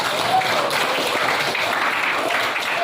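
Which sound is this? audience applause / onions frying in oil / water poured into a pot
audience applause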